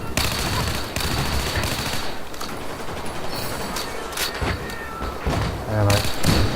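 Automatic rifle fire in Battlefield 4's Second Assault expansion on the Operation Metro map: dense, continuous bursts of gunshots and thuds fill the whole stretch, loud and close, with distant battle noise underneath.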